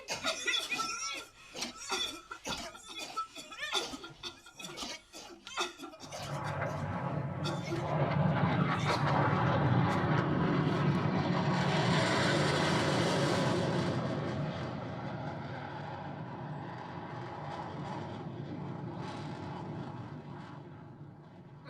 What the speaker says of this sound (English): Army fighter jet